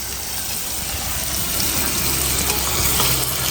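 Ginger paste sizzling and frying in a pan alongside tomatoes and green chillies, a steady close hiss that builds slightly over a few seconds with no talk.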